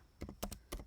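Several quick keystrokes on a computer keyboard, a few close taps grouped in short bursts with brief gaps between them.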